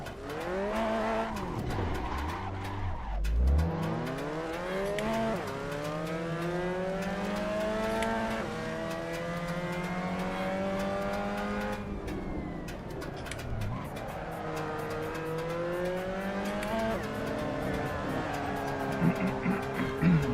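Tires squeal and skid in long, pitch-shifting howls as a Mazda MX5 Cup car drifts around Silverstone in a sim racing game, with the engine droning loudly underneath.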